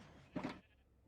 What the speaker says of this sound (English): I need to get a sheep in there.